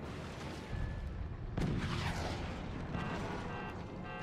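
A sharp cannon blast in the game Forts bursts out mid-clip over a steady rumbling game soundscape, followed by a lingering roar and faint crackling debris.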